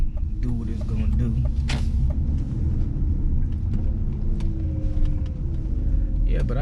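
A car heard from the cabin while driving, a steady low road and engine rumble with small clicks and creaks, under a voice talking.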